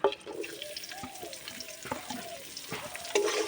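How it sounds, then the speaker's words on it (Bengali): Chopped onions sizzle in a hot kadai (wok), a steady close frying hiss with stirring scrapes throughout, no talk. "কড়া গরম হয়ে গিয়েছে, কড়াই আমি পেঁয়াজ দিয়ে দেবো।"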